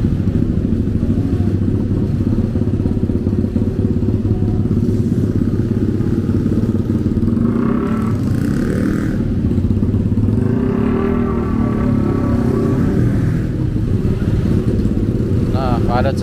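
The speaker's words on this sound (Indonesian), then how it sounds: "Padat sekali ya, motor pun." Heavy motorcycle traffic crawls along a busy city street in Bandung, with a steady dense rumble of many small engines, occasional revs and passing bikes, continuous and close.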